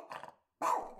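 A dog barks twice in close succession, a short gruff bark followed after a brief gap by a louder, fuller one with a growly edge, near and alone.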